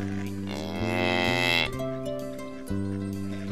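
Calves moo on a farm, several drawn-out lowing calls overlapping one after another, loud and close, with no talk.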